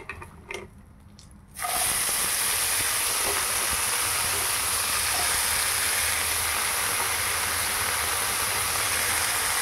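Thin-sliced bottle gourd drops into a hot wok tempered with black cumin, and a quiet scrape gives way to a sudden loud, hissing sizzle that holds steady and close.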